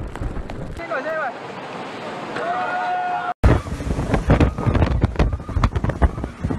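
Strong typhoon wind roars and buffets the microphone during Typhoon Hato in Hong Kong, a dense rushing blast with gusty surges, briefly cut and then resuming even rougher.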